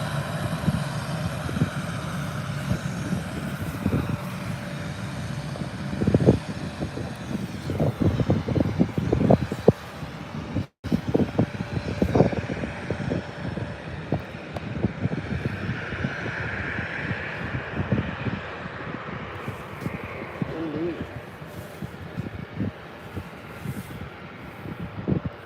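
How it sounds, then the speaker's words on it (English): Lufthansa City Hopper Airbus A319 airliner departing Birmingham airport for Munich, a steady broadband jet roar that stays fairly loud and continuous with wind buffeting on the microphone. "An A319 there from Lufthansa on its way out, heading over to Munich."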